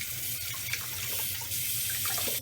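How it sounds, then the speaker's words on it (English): A soapy kitchen sponge rinsed under a running tap, a steady close rush of water splashing into the sink with slight shifts as the sponge is squeezed, no voices. "you want to keep rinsing it until all the soap is gone from the sponge."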